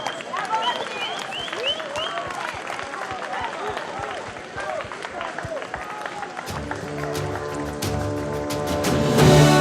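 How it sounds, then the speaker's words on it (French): A crowd claps for the winning mare Samima at the Qatar Total Arabian Trophy race for mares and fillies. Dense, lively applause mixes with bright chirps, then music joins the clapping partway through. "On l'applaudit, retour de la gagnante"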